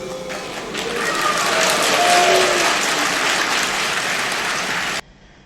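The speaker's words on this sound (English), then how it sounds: "I'm hearing claps as well" Audience applause from a film scene plays as a dense, steady wash of clapping for about five seconds, moderately loud, then cuts off abruptly into near silence.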